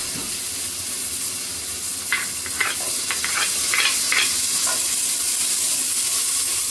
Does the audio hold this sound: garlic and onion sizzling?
yes